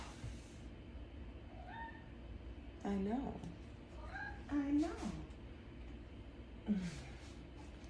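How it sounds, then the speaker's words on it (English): A pet cat meows several times indoors, close and fairly loud, with short rising and falling cries spaced apart, while someone speaks briefly. "My emotional support kitty."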